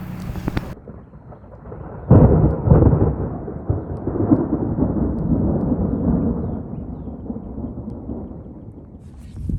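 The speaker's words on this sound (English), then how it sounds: "That's something I missed in DC is a Texas thunderstorm rolling in on the farm." A Texas thunderstorm rolls in over a farm, with a sharp crack followed by a long, heavy rumble of thunder that swells loud and slowly fades, mixed with steady rain noise and no speech.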